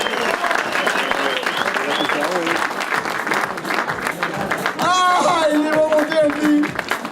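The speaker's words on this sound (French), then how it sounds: "Le podium, catégorie trophée, on les applaudit." A rally crowd applauds the trophy-category podium winners at a car rally prize ceremony, with sustained clapping running beneath an announcer's voice and some music.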